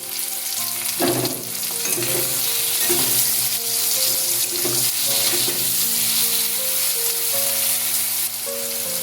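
Slit green and red chillies drop into hot oil with turmeric for a prawn curry, a strong close sizzle with a few sharp crackling bursts and spoon clatter as they are stirred, steady throughout.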